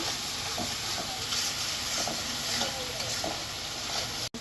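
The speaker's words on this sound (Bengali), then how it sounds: "হলুদের গুঁড়া দিয়ে ধনিয়ার গুঁড়া লবণ তো একসাথে কষে নিব" Turmeric, coriander powder and salt sautéing in hot oil, a dense steady sizzle with soft rhythmic scrapes of stirring, close up and continuous, without speech.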